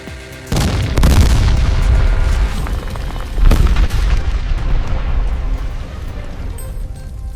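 Deep booming blasts of satchel charges thrown into pillboxes in a staged WWII Pacific toy soldier battle, two heavy explosions a few seconds apart with rumbling, debris-filled tails.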